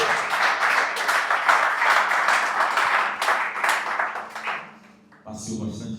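Church congregation clapping together in sustained loud applause, with voices mixed in, then fading out before a brief burst of other sound near the end.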